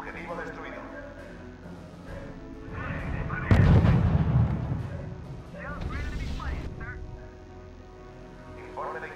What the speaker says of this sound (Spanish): Impresionante la cantidad de disparos que se están comiendo estos rusos.